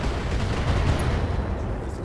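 Mech weapons firing missiles in the BattleTech video game, a dense, continuous rumbling barrage of low booms and crackles, steady and loud throughout with no voices.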